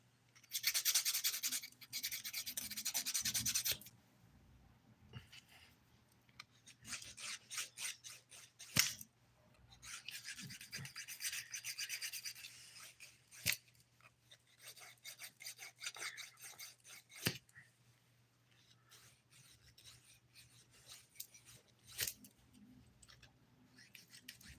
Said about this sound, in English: I used to love filing so much because you start out with messy nails